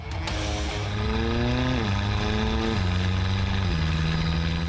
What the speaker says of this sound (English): in this model, it's the sound of the engine that is really music to the ears